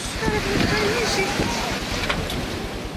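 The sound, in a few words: strong wind in a windstorm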